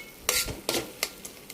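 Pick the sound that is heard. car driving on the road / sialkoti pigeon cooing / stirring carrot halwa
stirring carrot halwa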